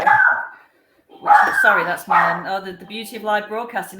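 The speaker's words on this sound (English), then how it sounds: "That's my doorbell, followed swiftly by my dog." A domestic dog barks several times indoors just after a doorbell rings, the yaps close and loud, with someone talking and apologizing over the noise.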